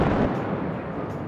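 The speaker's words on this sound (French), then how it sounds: "les spécialistes allemands n'ont eu besoin que de quelques charges à la base de chaque tour pour les démolir" Explosive charges at the base of 100-metre concrete cooling towers bring them down, producing a dense, sustained rumbling roar of blasts and collapse with no voices.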